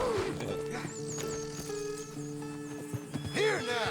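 A horse in a video game neighs in a shrill, wavering whinny, with clip-clop hoofbeats and game sounds around it, and a louder whinny near the end.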